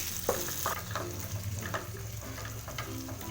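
Goat brain (bheja) fries in a pan without turmeric, giving a quiet, even sizzle broken by intermittent scraping stir strokes.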